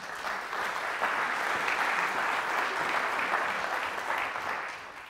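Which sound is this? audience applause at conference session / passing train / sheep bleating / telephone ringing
audience applause at conference session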